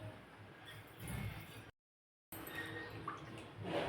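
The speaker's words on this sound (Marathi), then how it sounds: "असं किंचित अजून पाणी घालते" Water is poured into a pan of cooked matki (moth bean) dal, making a steady, soft splashing and gurgling. There is a brief silent gap partway, then the pouring carries on.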